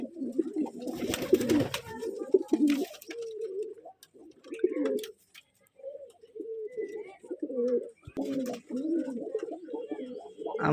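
Pigeons of a quality gerebaj breed coo in repeated throaty bursts, loud and close, with brief pauses and some wing rustles between phrases.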